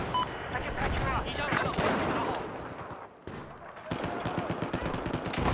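Bulldog rifle fire in Battlefield 4, rapid dense bursts of gunshots mixed with battle noise, with players talking over the shooting and a short lull midway before the firing resumes.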